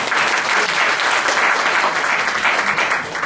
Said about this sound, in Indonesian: Saya tepuk tangan buat Hendy.